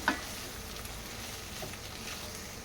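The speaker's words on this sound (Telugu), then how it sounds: "ఆనియన్ కూడా ఫ్రై అయిపోతుంది ఆయిల్లో" Onion and okra frying together in hot oil for a Telangana okra stew, a faint, steady sizzle with soft crackle running throughout.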